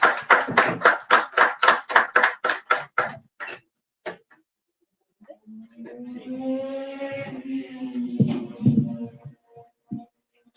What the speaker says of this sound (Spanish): Un fuerte aplauso para Claudia, por favor.